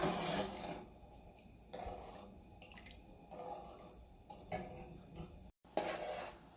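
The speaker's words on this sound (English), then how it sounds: "Keep stirring it, and we just need to get a sticky consistency." A utensil scrapes and stirs through a thick, sticky shahi tukda bread pudding mixture in a pan, in repeated bursts with short pauses between strokes.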